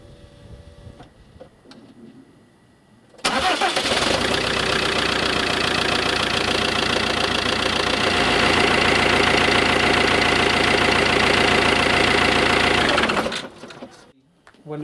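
An Iveco campervan diesel engine, freshly fitted with new filters, runs at a steady, loud idle for about ten seconds with a rapid ticking rhythm, then cuts off; faint voices are audible before and after.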